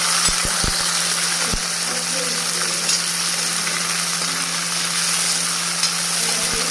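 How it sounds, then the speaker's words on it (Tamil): Small onions, 100 grams of them cut, sauté in hot oil for a brinjal thokku, giving a steady close sizzle and fry hiss throughout with a few low clunks of stirring at the start and no talking. "எண்ணெயில் நல்லா வதக்கிக்கிடுங்க"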